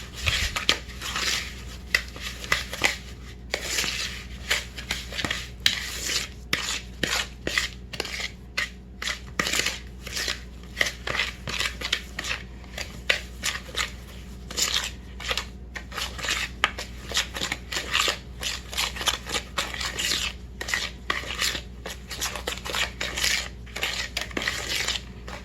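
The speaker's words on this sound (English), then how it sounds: "Now I'm going to stir all of this together" Cookie dough for 16th-century Tudor short cakes, with cream, being stirred in a bowl: a steady run of close clicks, scrapes and knocks of a utensil against the bowl, continuous and fairly quiet, with no talking.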